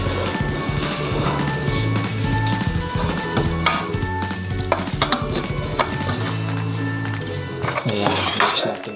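Cauliflower is tossed in breading mix in a bowl, with steady metallic clinks, scrapes and stirring knocks of a utensil against the bowl that continue throughout, close and fairly loud.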